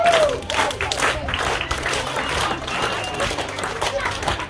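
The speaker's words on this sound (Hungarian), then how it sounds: "Lehet még a taps, bizonyám a lányoknak!" Loud applause and some cheering from a crowd at a youth football festival, clapping for the girls' team, with close individual claps and voices mixed into the dense clatter.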